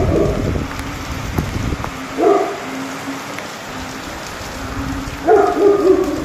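Heavy rain pours during a storm, a typhoon threatening vendors and riverside residents. A continuous hiss of the downpour runs throughout, and a few short, loud barking bursts cut through it at intervals.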